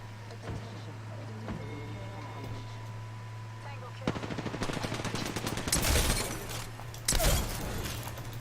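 Gunfire in Apex Legends crackles as rapid automatic bursts with sharp cracking shots, loud and close, in a steady rattle over a constant low game hum, with a couple of heavier flurries near the end.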